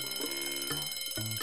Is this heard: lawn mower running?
no